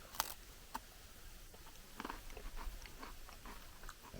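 Someone bites and chews a crunchy salty biscuit from a UN 24-hour combat ration, dipped in a chicken dish, with quiet, close crisp cracks and a run of soft munching over a faint background.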